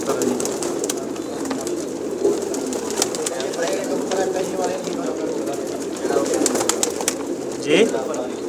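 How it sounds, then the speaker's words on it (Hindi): Many pigeons of mixed breeds coo continuously in a crowded pigeon shop holding over a thousand birds, a dense close chorus with occasional wing flutters, while people talk over it. "बहुत तादाद में कबूतर हैं जी इनके पास"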